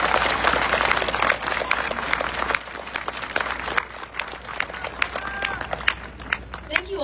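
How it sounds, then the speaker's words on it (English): Audience at a high school graduation ceremony applauding ASB students, a dense, sustained burst of clapping from a large crowd with voices mixed in, loud throughout. "can we all give them a round of applause?"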